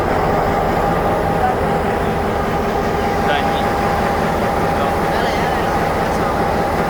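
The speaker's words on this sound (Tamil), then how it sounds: "இவ்வளோ பெரிய இன்ஜின் தான் நம்மளை மலை அடிவாரத்துலேருந்து மேலே உச்சிக்கு இழுத்துட்டு போகுது நம்மளை" A large train engine hauls carriages uphill on a mountain line in Sri Lanka between Badulla and Colombo, giving a loud, steady diesel drone and rumble with a constant hum that never lets up.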